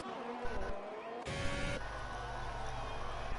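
Ferrari race car leaving the pit lane in a racing game, engine tone shifting and surging into a loud sustained roar with a brief squeal, heard alongside talk.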